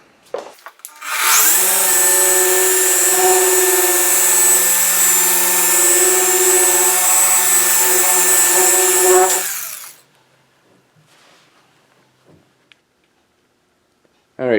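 A car paint polisher runs at speed 4 on the heavily damaged clear coat of a 2004 Audi B6 S4, a loud steady motor whine that starts abruptly, holds about eight seconds, then cuts off, followed by quiet handling noises.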